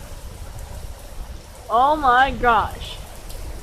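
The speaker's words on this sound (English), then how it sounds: "It's raining." Heavy afternoon rain pours down hard enough to flood, a steady close hiss of falling water running throughout while a person exclaims over it.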